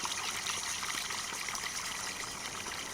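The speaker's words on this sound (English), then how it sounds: "You can hear it, and then gradually this will fill up with water" Water pours steadily into a floodgate fill point in the Farming Simulator 19 game on PS5, a constant trickling, rushing wash heard alone at moderate level throughout.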